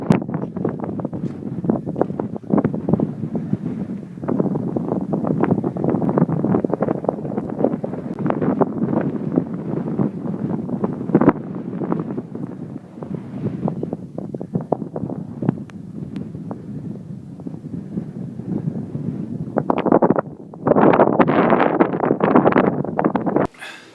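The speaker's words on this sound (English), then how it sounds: "it's really windy, but these are the Meroe Pyramids" Strong gusting wind at the Meroe Pyramids in the Sudanese desert buffets the microphone in a continuous loud roar, with brief sharper blasts near the end and no talking.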